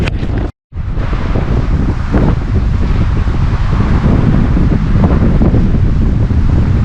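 Strong wind buffets the microphone at a lake canoe landing in the Boundary Waters, with a continuous loud roar and waves washing near the shore, after a brief dropout at the start; no one speaks.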